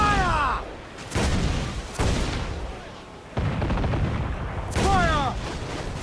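Ship cannons fire in several loud, sharp blasts spaced about a second apart in the pirate game Assassin's Creed IV Black Flag, each followed by rumbling decay, with whistling projectiles and faint shouting between shots.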